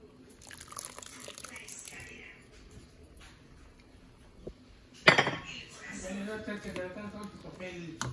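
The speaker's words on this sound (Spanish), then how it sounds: "Y las rajas se puedan mistear con todo el espagueti." Utensils clink and scrape against a pot while spaghetti is tossed with pepper strips, the clatter running under a voice, with a sharp loud knock midway and heavier stirring afterward.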